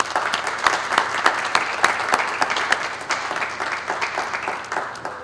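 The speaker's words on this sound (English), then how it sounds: "Let's take a moment and give them a big round of applause" An audience at a school district address applauds steadily, a dense patter of many hands close by that fades slightly toward the end.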